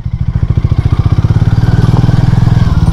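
A Harley-Davidson X440 motorcycle engine revs on a rough off-road trail, a loud close thumping exhaust with a fast even pulse that quickens steadily as the throttle opens.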